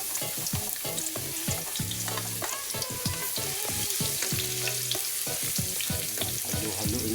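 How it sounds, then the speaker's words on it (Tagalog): Garlic fries in hot oil while being stirred, a loud continuous sizzle with rhythmic scraping strokes of a utensil across the pan, close and without speech. "Halu-haluin lang natin mga kapaps hanggang sa mag-brown na ang ating bawang."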